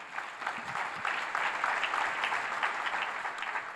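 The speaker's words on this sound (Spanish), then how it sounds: "Le das un fuerte aplauso a Dios." Steady applause from a church congregation, dense clapping sustained evenly throughout without pause.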